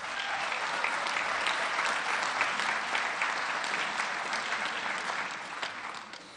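Steady, dense applause from a large crowd at a town meeting after a vote, loud and sustained throughout with no speech over it, fading slightly at the end.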